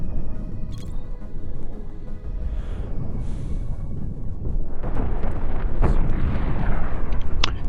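A chain of explosions rips through ships in the Cosmoteer space combat game, rumbling booms that overlap and swell louder toward the end, with sharp bursts breaking through.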